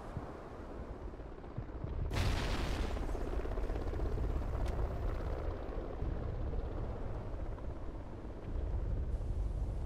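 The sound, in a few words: frag grenade thrown in the Warhawk video game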